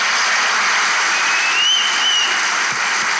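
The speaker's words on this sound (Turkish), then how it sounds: "Alkışlarla!" A studio audience at a comedy relationship-quiz show applauds in a steady, hissy wash of clapping, with a brief whistle-like tone rising in the middle.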